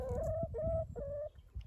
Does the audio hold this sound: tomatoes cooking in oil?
no